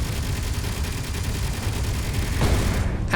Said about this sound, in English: that assault cannon packs a punch